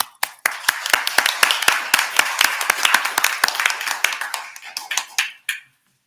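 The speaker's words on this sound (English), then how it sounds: "They deserve a significant round of applause for that" A city commission meeting audience gives a round of applause, a burst of many hands clapping close and steady for about five seconds before tapering off into quiet.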